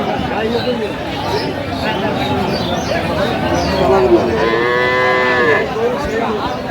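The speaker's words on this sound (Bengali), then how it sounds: "গাভী বাছুর" Cows and calves moo loudly and close by with drawn-out lowing calls at a cattle market, Aftabganj Haat, and a busy crowd chatters throughout.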